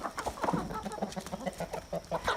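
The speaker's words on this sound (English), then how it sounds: "my little hens are out here waiting for me" Several hens cluck in short, irregular bursts at close range while they wait to be fed, with a busy farmyard background underneath and no talking.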